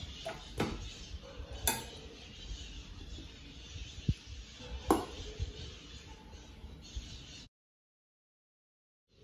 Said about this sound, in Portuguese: eu vou misturando e vou colocando o restante da farinha